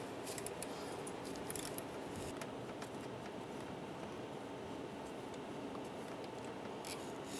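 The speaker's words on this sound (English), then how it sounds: "Using a 10mm socket, take this bolt out." A 10mm socket wrench backing out a bolt near the ignition coil on a 2012-2017 Toyota Camry, quick faint ratcheting clicks in a short burst followed by quiet handling noises, no voices.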